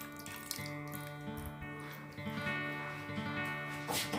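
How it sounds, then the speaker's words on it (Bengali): Water is poured into a mustard koi fish curry on a gas stove, a steady continuous trickling and splashing over a constant background tone. "আর সামান্য পরিমাণে জল আমি এতে দিয়ে দিলাম।"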